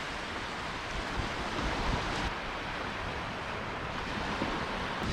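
Sea waves break on an Italian shore on a cold day. A constant loud roar of surf with heavy wind buffeting the microphone rises and falls slightly, and no voices are heard.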